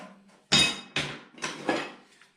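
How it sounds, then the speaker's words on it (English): A fairly flat-headed hammer taps sheet metal on a Lambretta GP scooter side panel during bodywork repair, giving four sharp, close metallic strikes about half a second apart, each ringing briefly before fading. "It's good for getting lines, tapping out lines."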